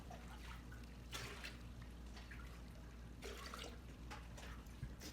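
Water from an API Filstar XP-M aquarium canister filter trickles and drips softly and steadily during cleaning, faint and close with no voices.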